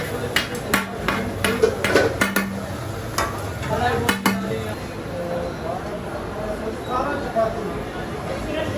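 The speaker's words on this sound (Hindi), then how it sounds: "ये है जी अपनी कढ़ाई अभी बन रही है" Karahi cooks in a pan with stirring, scraping and clanging against the metal over a steady sizzle, while people talk nearby.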